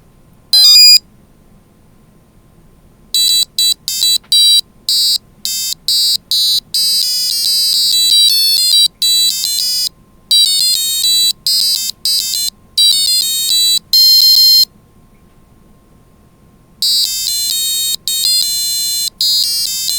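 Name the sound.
initial beep from W65C265S tone generator after reset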